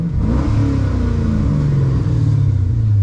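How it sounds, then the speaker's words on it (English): A Dodge Challenger R/T fitted with carbon fiber parts rumbles at close range after starting, a deep steady exhaust growl with a slight rise in revs, loud and unbroken. "So we start the car up, right? The exhaust sound alright."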